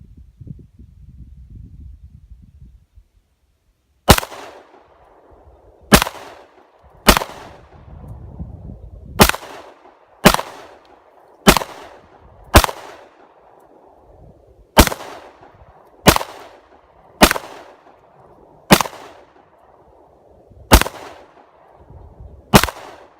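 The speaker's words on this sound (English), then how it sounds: "So take some shots at this target and see how we do." A CZ P-01 Omega pistol fires about thirteen single shots at a target outdoors, each a sharp loud crack with a short decay, spaced unevenly a second or two apart after a brief quiet rumble.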